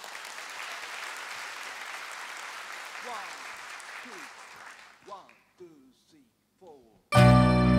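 Concert crowd clapping at a live anniversary pop show in Japan, sustained applause fading out over five seconds with a few whistles and cheers, then the band abruptly starts loudly.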